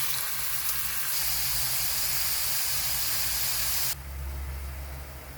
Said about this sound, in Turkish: Şimdi biberleri koyup yağda kavuruyoruz.